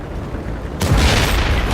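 A KV-2 tank cannon fires in a video game with one heavy, sudden boom that cuts in over low background rumble and rolls on as a loud, broad blast.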